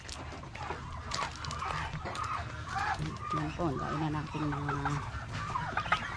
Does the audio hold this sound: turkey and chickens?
yes